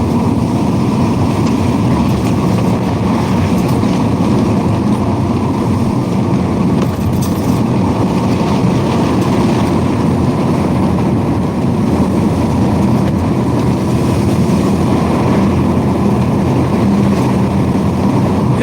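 The carburetted engine of a piece of heavy equipment runs continuously, a loud, steady, low mechanical rumble and drone held close and unchanging for almost twenty seconds with no talking.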